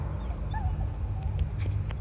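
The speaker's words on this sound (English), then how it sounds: "Do I have to kill this dog?" A dog whimpers in the video game Inside, with a few thin, high whines over a steady low rumble of game ambience, close and fairly quiet.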